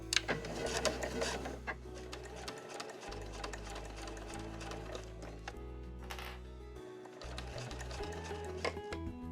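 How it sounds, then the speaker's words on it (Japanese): A sewing machine stitches a seam one centimetre from the edge of a small Marimekko cotton cosmetic pouch, a close steady mechanical whir with a few short pauses and restarts. "そしたらこの端から今度は1センチを縫います。"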